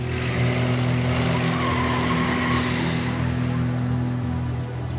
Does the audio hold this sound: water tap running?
no